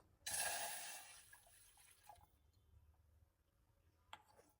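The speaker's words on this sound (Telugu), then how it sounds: "పాకంకి ఒక బౌల్ తీసుకొని అందులోకి వన్ గ్లాస్ వాటర్ వేస్తున్నాను" One glass of water poured into a bowl to start sugar syrup for chitti badusha: a short, close splashing pour lasting about two seconds, then quiet with a faint drip or clink.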